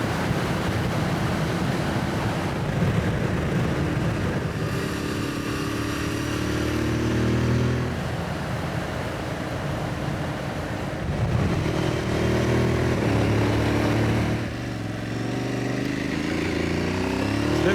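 An Aprilia adventure motorcycle rides along stone-wall-lined twisty country roads in England and Wales, its engine droning and swelling through gear changes under heavy, continuous wind rush.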